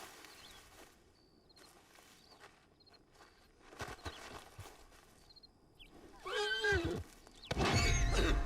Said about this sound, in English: Oh, there's another horse up here, actually.